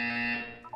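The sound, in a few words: buzzer in Portal 2 video game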